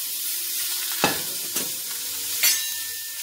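Mussels are added to a pot of hot oil for mussels braised with trachana, giving a steady close sizzle broken by a few sharp clattering thumps as the shells drop in and get stirred.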